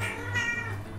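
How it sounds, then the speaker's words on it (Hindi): A cat meows from under bedding, a single close, drawn-out call with a wavering, slightly strained tone lasting about a second. "म्याऊं म्याऊं कौन कर रहा है?"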